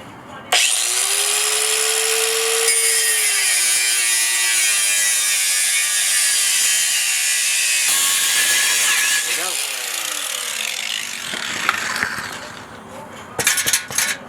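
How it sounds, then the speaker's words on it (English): An angle grinder cuts through the exhaust pipe of an NA Mazda Miata during a DIY catback install, a loud close screaming grind held for many seconds, then pitch shifts and clattering handling as the cut finishes. "This is your angle grinder."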